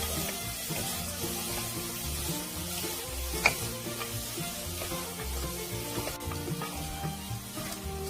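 Anchovies and nuts stir-fried in a hot pan make a soft, close sizzle with scraping stirs and one brief clack, steady and fairly quiet throughout, with no voices.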